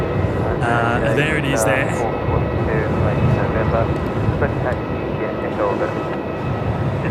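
A Qantas airliner taking off from Melbourne Airport produces a continuous loud engine rumble with a rising whine, while a person speaks briefly over it near the start.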